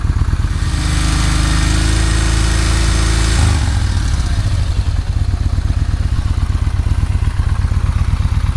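A Yamaha 950 cruiser motorcycle engine runs loud and close, revving high for a few seconds before dropping back to a steady, chugging idle.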